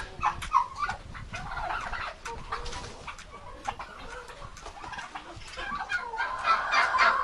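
Domestic turkeys grazing and mating on a village farmyard in late autumn give repeated gobbles and clucking calls, moderately near, with a steady mix of bird noise throughout.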